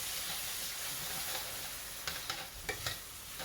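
Stock or broth is poured slowly into a hot flour roux, giving a continuous soft sizzle and hiss with a few small pops and stirring clicks near the end.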